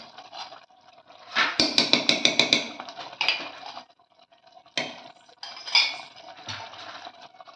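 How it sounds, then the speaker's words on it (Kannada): A utensil scrapes and clanks against a metal pot while curd is stirred into vegetable biryani, with bursts of rapid clinking separated by quieter pauses, close by. "ಮೊಸರನ್ನ ಸೇರಿಸ್ಕೊಂಡು ಚೆನ್ನಾಗಿ ಮಿಕ್ಸ್ ಮಾಡ್ಕೊತಾ ಇದ್ದಾರೆ."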